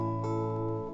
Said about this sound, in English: That's a regular old A bar chord, and it looks like that.